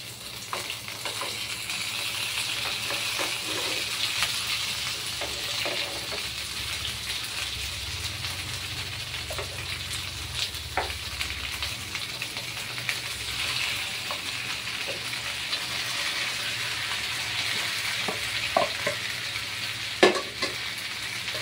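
Chicken pieces sizzle and fry steadily in a pan with garlic and onion, a continuous close crackling hiss with occasional stirring clatter and no talking.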